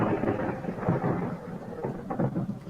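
A sustained rumble of thunder in a tabletop role-play game rolls on steadily, loud and broad, with no voices over it.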